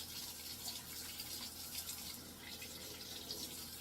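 Tap water runs steadily into a sink while a water bottle brush is rinsed under it, making a continuous faint splashing and gurgling hiss with small fluctuations.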